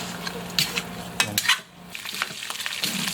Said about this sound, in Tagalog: yung nag-render na yung mantika tapos medyo brown na yung pork belly natin